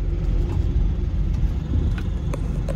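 A truck speeds past on a highway, heard as heavy, continuous low engine and road rumble with a few faint clicks and no voices.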